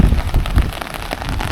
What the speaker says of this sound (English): Look, the pouring rain.